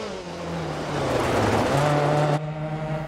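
A Lancia 037 Group B rally car in DiRT Rally 2.0, its engine roaring loud and steady as it speeds past, pitch shifting mid-run, with a faint tire squeal.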